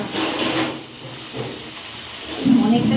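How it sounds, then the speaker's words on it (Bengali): Onions fry in a pan in a home kitchen while chowmein is being made. A steady, close hiss swells and fades across the few seconds, with a brief rise near the end. "তারপরে আমার পেঁয়াজ ভাজা হচ্ছে,"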